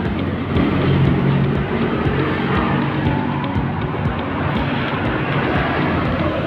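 Vehicle engine running steadily through a newly replaced stainless steel exhaust pipe, fitted after the old one broke and leaked; a continuous loud, dense rumble holds throughout without a break.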